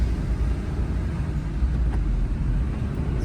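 A car being driven on a road gives off a steady, low engine and road rumble, continuous and fairly loud, with no talking over it.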